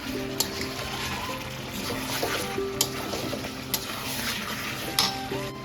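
Chicken and potatoes cooking for biryani gravy crackle and sizzle as a little water goes in, with occasional sharp clinks of a utensil against the pot, close and steady with no voices.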